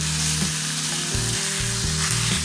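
Ground beef with onion and garlic browning in a pan, a loud, constant close sizzle and crackle with intermittent scraping and stirring strokes, no voices.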